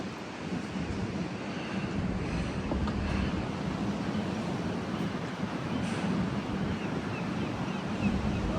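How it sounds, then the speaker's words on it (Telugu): Strong wind and surf on an almost empty Dutch beach at Den Haag in winter, a steady loud roar of breaking waves and buffeting wind on the microphone throughout, with no voices. "హారబుల్ విండ్స్ ఉన్నాయి."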